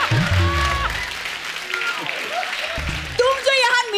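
Studio audience applause on a comedy talk show, a broad wash of clapping running under loud talk and laughter from people on stage, with voices dominating the near foreground.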